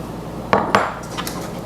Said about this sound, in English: Now I'm going to put in my tomatoes.